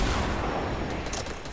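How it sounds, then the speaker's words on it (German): A Fortnite sniper shot during a tournament duel, mixed into steady game noise and explosions, with a dense crackle of gunfire running at a fairly constant level throughout. "Ein ganz schnell gepiekter Sniper-Schuss."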